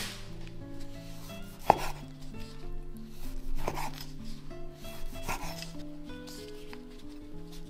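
A knife slices through homemade Chinese sausage (lạp xưởng), made without a casing and still slightly moist. A few distinct cuts land about every two seconds over a steady tonal background.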